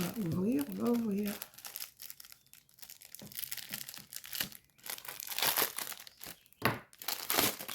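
Small gift packages being unwrapped, with close, busy crinkling and tearing of wrapping that comes in uneven bursts, and a voice speaking briefly at the start.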